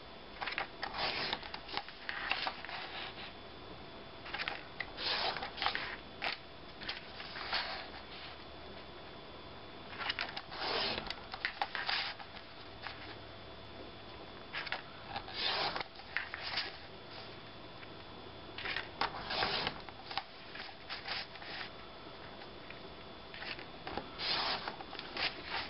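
Designer series paper is cut into one-inch strips on a paper cutter, with repeated short scraping and slicing strokes at irregular intervals, close and fairly quiet with light rustling between cuts.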